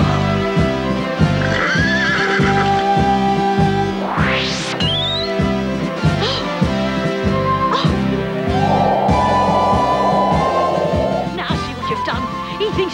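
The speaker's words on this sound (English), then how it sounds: "Behold, Super Horse" A horse whinnies loudly over a steady, regular clip-clop of hooves in a 1981 comedy episode, with further shrill neighs and squeals rising above the rhythmic trotting.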